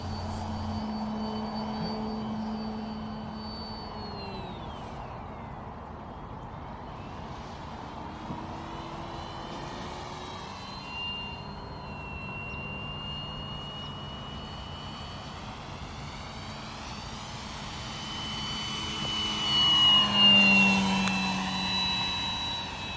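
An electric Avios Grand Tundra Plus RC sport plane with a 1700 mm wingspan drones steadily overhead, its motor pitch rising and falling as it passes, then swelling louder near the end.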